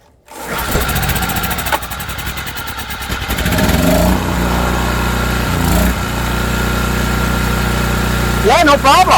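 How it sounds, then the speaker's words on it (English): An ETQ portable generator's small engine fires up after a brief pull and settles into a steady running drone, with a person talking over it near the end. "Generator's on. Let's see if she'll restart."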